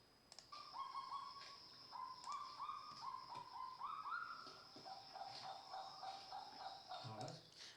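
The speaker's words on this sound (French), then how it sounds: "c'est le cri du cagou au lever du jour" A kagu calls at dawn in New Caledonia: a series of repeated, rising calls, barking and yelping in short phrases, fairly clear against a quiet background.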